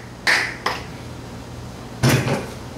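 Three sharp knocks of a rubber mallet on a VW air-cooled transaxle flange, two close together and one after a pause, each ringing briefly against a low steady hum.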